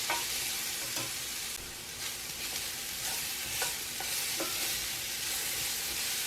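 Cubed vegetables fry in a hot pan for vegan mac and cheese, a bright steady sizzle broken by soft intermittent scrapes and knocks as a utensil stirs them around, close and continuous, with no voices.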